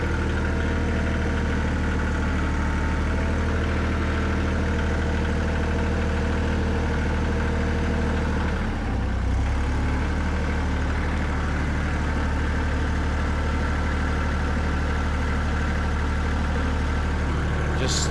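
A vehicle engine drives slowly along the side of a driveway, pushing snow aside, with a loud, steady low drone that holds throughout and dips briefly near the middle.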